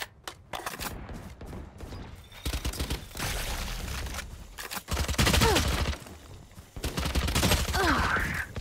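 Gunshots in the tactical shooter Valorant, rapid bursts of automatic fire in several loud, close clusters separated by brief pauses, with game effects mixed in.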